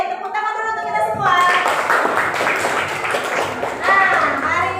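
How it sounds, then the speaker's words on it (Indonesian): A school class group claps hands together at the close of a lesson: brisk, dense clapping that starts after a voice and runs steadily, with a voice speaking over it near the end. "Oke, tepuk tangan dulu untuk kita semua."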